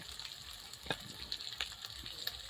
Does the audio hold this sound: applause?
no